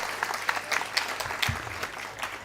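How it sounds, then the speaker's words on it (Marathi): An audience claps at a Marathi comedy show, dense, continuous applause with a few louder peaks and no voices. "वाजवा ना मग टाळ्या, जोरात वाजवा."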